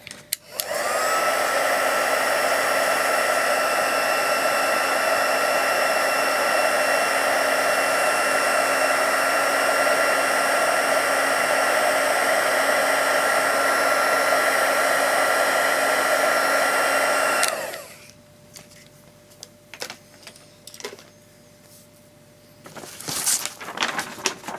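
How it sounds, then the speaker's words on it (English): A heat gun blows hot air to melt embossing powder, a loud, steady close whoosh with a constant tonal whine that runs for about seventeen seconds, then cuts off, leaving quiet handling clatter and small knocks. "some of it will fly off with the heat gun."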